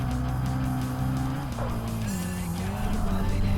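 Game car in Tokyo Xtreme Racer Drift 2 pulls a handbrake drift, its engine droning loud and steady while tires squeal and skid throughout, the pitch sliding down mid-slide before rising again.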